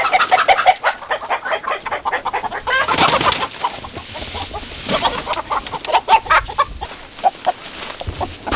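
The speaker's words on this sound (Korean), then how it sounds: "어머니 오늘 닭과 씨름 한 판 벌일 모양입니다." Free-range chickens clucking busily on a farm on Bogildo island, a steady close chatter of overlapping clucks and squawks with a brief flurry of flapping or scuffling partway through, no talking.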